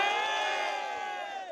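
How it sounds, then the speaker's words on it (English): A crowd at a drift showcase cheers and whoops loudly, a dense mass of excited voices that fades slightly toward the end. "you can hear a section of the crowd being hyped there"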